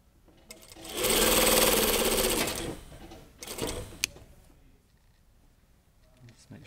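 A sewing machine runs a steady burst of stitching along a 1 cm seam around a chest pocket on a tailored jacket, loud and close for about two seconds, followed by a shorter run and quiet handling noises.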